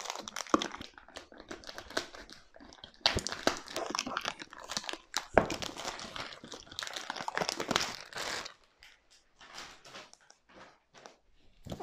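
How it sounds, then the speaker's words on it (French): A small knife cuts open the cardboard box of an Honor MagicBook Pro laptop. Close, quiet crinkling and scraping come in irregular bursts, with sharper cracks of tape and packaging mixed in, and no one speaks. "On va prendre le petit couteau pour l'ouvrir."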